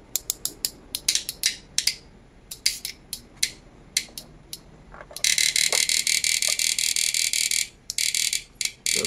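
A Samus 725N electronic fish shocker with an LCD powered up for testing: a string of sharp mechanical clicks, then a loud continuous high-pitched buzz that pulses in short bursts near the end.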